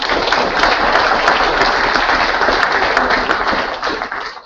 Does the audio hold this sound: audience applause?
yes